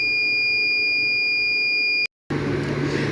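A fire alarm buzzes with a steady, piercing electronic tone right after a fire is lit, cuts out for a brief moment, then returns louder and harsher over a background hum.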